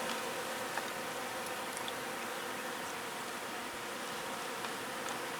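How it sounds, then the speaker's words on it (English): Bees buzzing around flowers, a faint, continuous insect hum with soft passing drones close by, steady throughout with no voices. "Some bee action."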